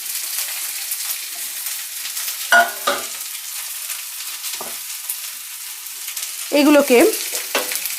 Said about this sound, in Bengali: হালকা মিডিয়াম আঁচে আমরা 5 থেকে 7 মিনিট হালকাভাবে ভেজে নেব।